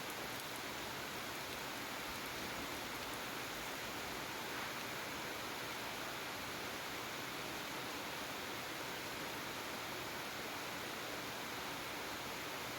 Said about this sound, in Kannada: ಈಗ ನೋಡಿ ಸ್ವಲ್ಪ ಬರ್ತಾ ಇತ್ತಲ್ವ ಮಳೆ, ಆಮೇಲೆ ಎಷ್ಟು ಸ್ಪೀಡ್ ಆಯಿತು ಗೊತ್ತಾ